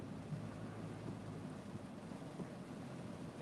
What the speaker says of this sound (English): It's that damn rain.